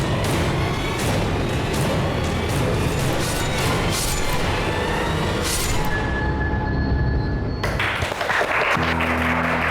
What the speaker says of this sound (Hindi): अरे बस बस बस, इतनी तालियों की हकदार नहीं हूं मैं।